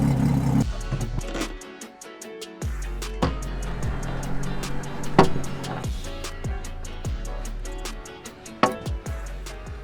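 Outboard boat motor starting and running at idle while being checked for an oil leak, close and loud with a rapid rhythmic ticking and sharp clattering bursts over a steady low hum.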